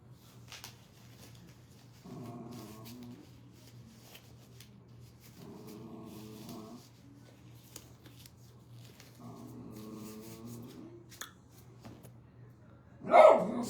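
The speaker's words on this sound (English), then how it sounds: "Ziki, why are you barking at me?" A dog barks in three separate bursts spaced a few seconds apart, each a short cluster of barks at moderate distance, with a low steady hum underneath and a sharp knock at the end; no one speaks.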